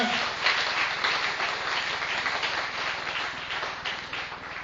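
A church congregation applauds and cheers in praise, steady dense clapping that fills the whole stretch, with voices mixed into it.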